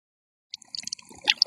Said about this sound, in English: So now we're going to soak this for 60 seconds under some tap water.